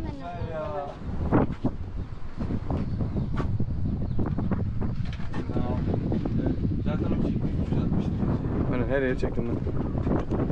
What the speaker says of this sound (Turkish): Güzel esiyor ya. Şapka gidecek valla.